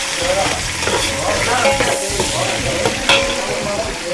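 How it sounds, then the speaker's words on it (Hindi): Chopped onions sizzle in hot oil for a camel-meat nalli pulao, a steady close frying hiss with occasional stirring scrapes and clinks throughout, no voices. "अभी इसमें शामिल कर रहे हैं हम प्याज। ऑयल हमारा गर्म हो गया, इसको ब्राउन करेंगे।"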